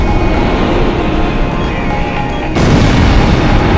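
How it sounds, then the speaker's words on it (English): A large explosion as an enemy facility is destroyed in the Ace Combat Zero flight combat game: a continuous loud, dense rumble that surges heavier and brighter partway through, with no talk. "Enemy facility destroyed."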